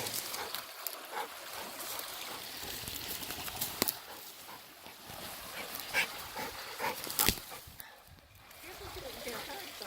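A happy puppy playing with a stick by the water gives short, scattered barks and whines over a noisy wilderness background of water and wind, with people talking nearby.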